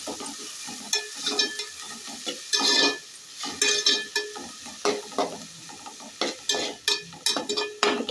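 Chopped tomato and ginger-garlic paste stirred in a frying pan for masala pasta: a steady sizzle broken by repeated scraping strokes of a spoon against the pan, close and fairly loud, with no voices.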